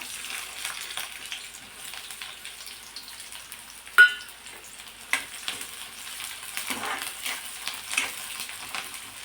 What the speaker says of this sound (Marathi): आता अगदी थोडंसं तेल घेतलं आहे मी कढईमध्ये आणि त्यामध्ये बारीक चिरलेला कांदा टाकायचा